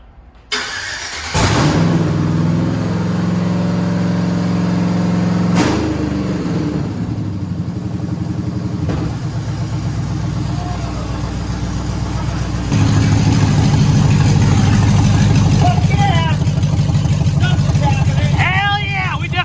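A 1957 Chevy rat rod cranks over and fires up, then settles into a loud, steady close idle that grows louder partway through, with people talking over the running engine.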